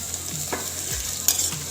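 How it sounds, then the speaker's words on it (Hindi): Boiled chicken frying with onions in a pan, a steady close sizzle with a few quick stirring scrapes of a spatula, brief and without talk. "मैं चिकन डाल देती हूँ इसमें।"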